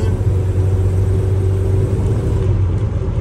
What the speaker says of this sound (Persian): الان من پامو رو گاز برمی‌دارم